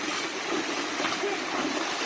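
Hiking boots splash into a cold stream on the Appalachian Trail, with a steady broadband rush of running water throughout and no clear separate steps.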